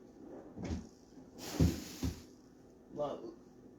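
Several wooden knocks and slides from a drawer being opened and shut: a few separate bumps and a louder scraping slide, quiet, with some breathing between.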